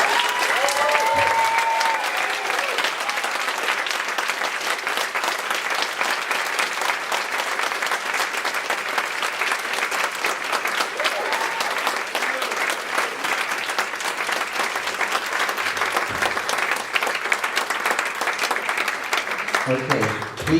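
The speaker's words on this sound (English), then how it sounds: "let's just give him one last huge round of applause" Applause from a workshop audience at the close of a session, a sustained, dense round of clapping lasting about twenty seconds at steady loudness, with crowd murmur and brief voices mixed in near the end.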